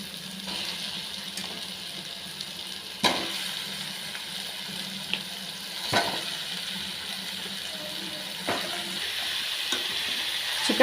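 Chicken frying in a pan for a pepper chicken fry, a steady close sizzle running throughout with several sharp scrapes and knocks as it is stirred.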